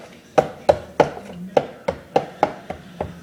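Shark chum being mixed with mustard and cheese, heard as about ten sharp, evenly spaced knocks of a utensil against the container, fairly close and with no talk.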